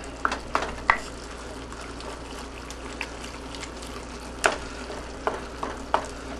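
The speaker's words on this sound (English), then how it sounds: "getting it onto the bottom of the hot pan for just a minute just kind of gets rid of that canned taste" A canned ingredient, likely tomato for spaghetti bolognese, fries and sizzles in a hot pan while a utensil stirs it, a steady close hiss punctuated by scattered scraping clacks, with no talking.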